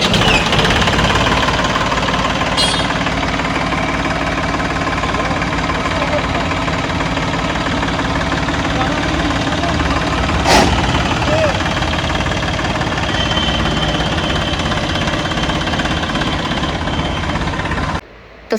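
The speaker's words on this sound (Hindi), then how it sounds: "अभी हमारे किसान भाई इस ट्रैक्टर को चलाने में लग गए हैं" A Massey Ferguson 9500 4x2 tractor engine runs steadily at a low, even idle, a continuous mechanical rumble with a couple of brief sharp knocks partway through.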